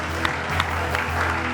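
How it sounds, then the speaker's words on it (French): A crowd claps loudly for an aircraft crew, a brief, steady burst of many hands over a low, constant hum, lasting under two seconds. "je vais vous demander d'applaudir très fort"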